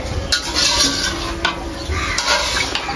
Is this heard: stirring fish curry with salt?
yes